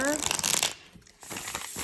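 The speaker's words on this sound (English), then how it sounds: "I'm just gonna get, just gonna shuffle it a little bit more" Muse Tarot cards being shuffled by hand, a dense papery riffling and crinkling that runs steadily with a brief pause partway through, close up, while a person talks over it.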